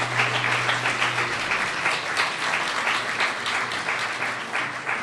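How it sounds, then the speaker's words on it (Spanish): Sustained applause from a live audience at a museum event in León, many hands clapping steadily and fairly close throughout, no voices on top. "Los aplausos son reales"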